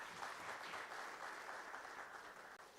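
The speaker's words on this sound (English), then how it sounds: "a huge round of applause for him as well" An expo audience applauds a colleague, sustained even clapping heard at a distance and fairly faint, with no voices over it.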